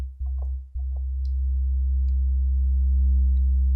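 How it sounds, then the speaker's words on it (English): A steady, pure sine tone from the Pro Tools SynthCell synthesizer, its filter lowered, hums low and continuous, with a couple of brief clicks near the start before it settles into an even drone. "so that's a nice sine wave type thing"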